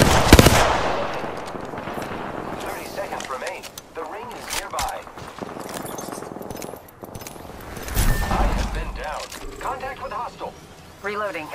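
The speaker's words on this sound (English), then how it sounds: "The enemies are shooting." Enemy gunfire in the Apex Legends battle royale, sharp bursts of shots near the start and again around the middle, mixed with game effects and background noise while a voice talks over it.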